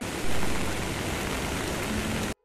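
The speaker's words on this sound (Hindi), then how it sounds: "तो अभी बहुत ज़्यादा बारिश हो रही है" Heavy rain pouring down early in the morning, a dense, loud, steady hiss that fills the whole moment before cutting off abruptly near the end.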